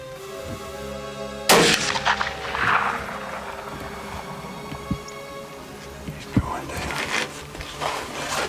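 A single sharp rifle shot cracks out while hunting at 53 yards, loud and close and followed by a brief rolling echo, against a quiet outdoor background with some low talk nearby.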